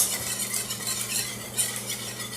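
Eggs whisked for an omelette, a steady scraping and stirring swirl that carries on continuously at close range, moderately loud and without pauses, with no voices.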